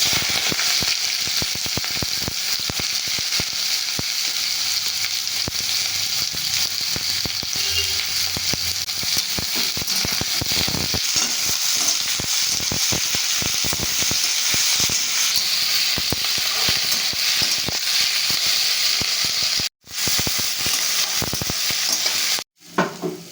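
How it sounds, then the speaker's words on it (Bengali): Cumin seeds and chopped onion fry in hot oil, a steady loud sizzle and hiss with stirring scrapes running throughout, broken by two brief drops near the end. "তেলের মধ্যে দিয়ে দিচ্ছি জিরে ফোড়ন, দিয়ে দিচ্ছি কেটে রাখা পেঁয়াজ"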